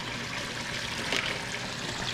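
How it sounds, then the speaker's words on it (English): Water bubbles and trickles steadily inside a homemade fish bait tank, a soft continuous liquid wash with a slightly brighter splash midway, fairly quiet and without voices. "looking down into the tank, listening to the water"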